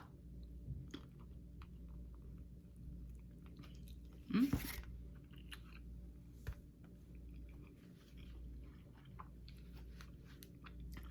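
Close chewing of smoked sausage dipped in ranch sauce, with soft wet squishes and bites, one louder crunchy moment partway through, over a low steady background hum.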